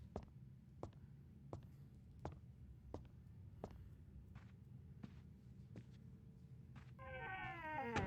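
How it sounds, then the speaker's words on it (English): Cat meows in the Harry Potter and the Philosopher's Stone PC video game, a harmonic yowl rising near the end after a run of regular soft footstep taps over a low ambient game hum. "Now there's a cat involved."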